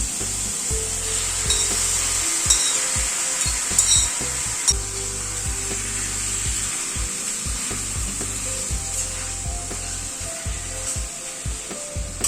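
Chicken pieces sizzling in hot spiced oil in a pan, with a steady frying hiss throughout and intermittent scraping stirs and utensil knocks close by.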